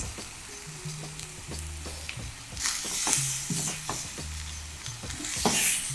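Chicken and mushrooms sizzle in a pan for a teriyaki noodle stir fry seasoned with salt, pepper and soy sauce, a steady crackling fry broken by repeated metal clanks and scrapes of stirring, with bursts of louder hissing as food is tossed.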